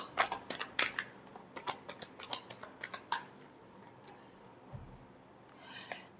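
Tarot cards shuffled by hand, a run of quick crisp riffling snaps and clicks that fades into quiet near the end, close with no talk.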